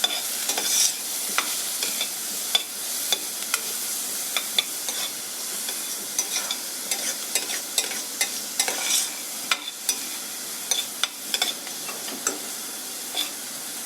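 Onions sautéing in a pan for Punjabi mutton curry, a steady close sizzle and hiss broken by frequent clicks and scrapes of stirring, with no voices.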